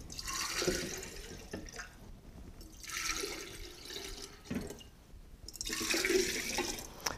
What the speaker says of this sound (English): Then just add water.